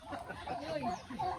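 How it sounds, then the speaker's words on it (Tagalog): A turkey on a rural property in Bicol gobbles and clucks in short, wavering bursts, close by and moderately loud, with a person talking over and between the calls. "Ito pabo."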